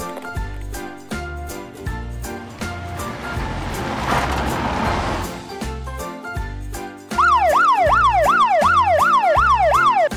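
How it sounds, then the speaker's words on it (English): A toy police car plays a jingly electronic tune, then switches to a loud wailing siren that rises and falls in quick repeated cycles. No one speaks. "Police car."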